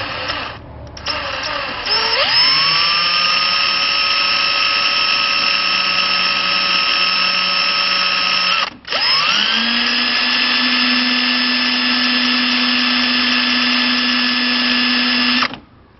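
A power drill whirs loudly at a steady pitch while drilling up through an electrical fixture's handle, briefly stopping and restarting, spinning up each time before running continuously.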